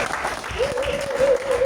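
A church congregation applauds in a dense, continuous wash of clapping, with a voice singing or calling out over it.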